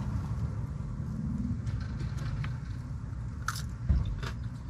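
Close-up bites and crunchy chewing of fresh cucumber with shrimp and lettuce at a restaurant table, a few wet crunches over steady background hum, no talking.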